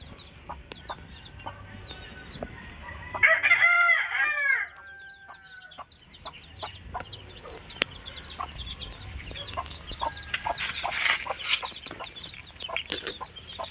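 Newly hatched Blacktiger chicks peep in high, thin, repeated chirps, with a louder cluster of overlapping calls early on and scattered peeps continuing over a low background hum.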